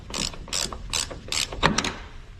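A ratchet wrench loosening painted-over trunk bolts on a Nissan G35, rapid close clicking in several short bursts.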